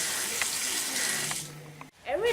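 Water pours from a tap into a sink in a steady hiss, then cuts off abruptly and a voice begins speaking.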